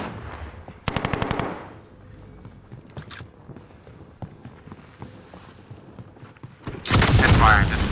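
Automatic gunfire sounds in the Warzone Rebirth multiplayer shooter. A sharp rapid burst comes early, scattered shots and footsteps follow, and a loud, dense volley of fire closes it out.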